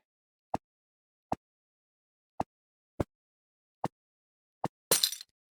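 A Minecraft glass pane or chain breaking: six sharp, evenly spaced clicks, then one short, bright, shattering burst. No voices.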